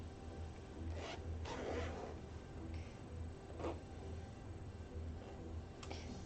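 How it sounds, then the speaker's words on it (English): A long clothing zipper handled at a sewing table, a few soft rasping zips and rubs spaced out over several seconds against a quiet background hum, close and without talk. "you can use long zippers like this"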